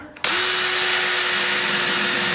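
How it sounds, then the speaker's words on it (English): A power drill bores holes in a quarter panel of a Chevrolet Nova to prepare for plug welding, producing a loud, steady, high whine that starts abruptly and runs unbroken, close up. "I'm just gonna randomly drill a bunch of holes here"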